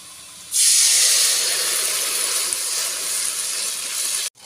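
Onions and extra masala sizzle in hot oil for a whole chicken dish, a loud steady hiss that bursts in suddenly and holds evenly before cutting off abruptly.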